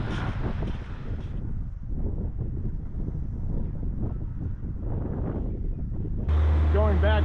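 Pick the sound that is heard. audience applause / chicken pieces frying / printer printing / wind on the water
wind on the water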